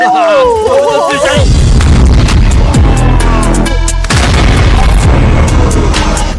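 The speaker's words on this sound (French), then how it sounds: "Attention, là, je vais tirer maintenant." Gunfire and heavy booms from a shooter video game fill the mix, loud and continuous with repeated blasts, while voices talk over the action.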